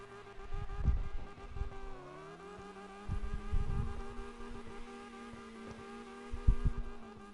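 Car in CarX Drift Racing, a steady engine drone with sustained tonal hum and low rumbling surges that swell and fade several times, moderately quiet with no talk.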